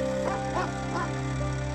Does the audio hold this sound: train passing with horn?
no